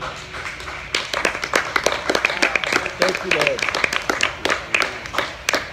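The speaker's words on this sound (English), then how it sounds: "Would you clap your hands one more time unto the Lord?" A church congregation claps hands in a steady burst of applause while a voice speaks over it.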